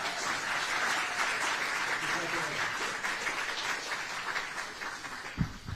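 Steady applause from a large crowd fills the room at a New Jersey government press event, continuous clapping throughout with a brief thump near the end.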